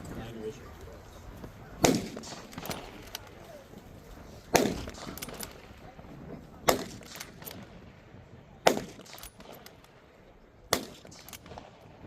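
A scoped Springfield bolt-action rifle fires at a WWII reenactment demonstration outdoors. Five sharp, loud reports come roughly every two to three seconds, with a faint murmur of voices in the background.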